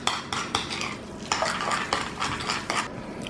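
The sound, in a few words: stirring ingredients in a bowl with utensils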